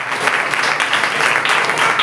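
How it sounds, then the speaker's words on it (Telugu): A church congregation claps during a sermon, dense continuous applause from many hands, close and fairly loud throughout with no talk. "నమ్మిన వారందరూ చప్పట్లు దేవుడికి స్తోత్రం."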